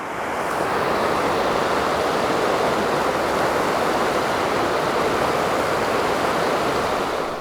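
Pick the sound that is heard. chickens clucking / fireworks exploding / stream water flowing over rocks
stream water flowing over rocks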